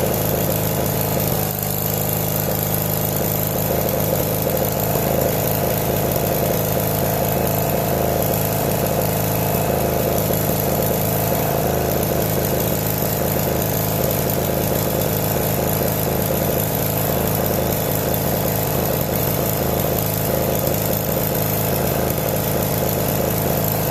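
An engine-driven welder, started with starting fluid, settles into a loud, steady idle that drones on evenly throughout, close by and with no talking over it.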